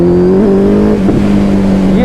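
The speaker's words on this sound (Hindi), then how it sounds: "ये देखिए इसने मारा बैक फायरिंग, जैसे ही बस रेस छोड़ने की देरी है और इसकी बैक फायरिंग पट पट पट स्टार्ट।" A Suzuki Hayabusa motorcycle engine runs loud and close, holding a steady rev with a slight rise near the end, a continuous throaty drone with faint popping underneath.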